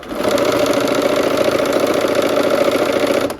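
A sewing machine runs steadily, stitching pieces for a barn quilt sampler; a continuous, even mechanical whir with a fine rapid needle rhythm, close and fairly loud with no talking.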